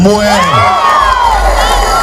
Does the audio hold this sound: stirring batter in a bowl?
no